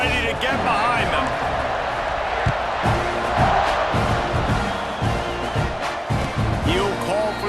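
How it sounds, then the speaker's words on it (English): A football stadium crowd at a Florida Gators vs Texas A&M game roars steadily before kickoff, a dense, loud wash of cheering and shouts under a commentator's voice. "Set to kick it off, and this crowd now ready to get behind them"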